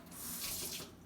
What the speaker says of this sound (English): use a little bit of tap water